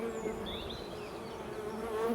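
Honeybees buzz at an opened hive after a hard winter, a dense steady hum of many insects close by, with a few individual bees droning past.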